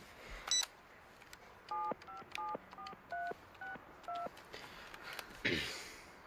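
Touch-tone telephone dialing for a prank call: a quick string of separate keypad beeps in an uneven rhythm, with a click at the start and a clunk of the handset near the end.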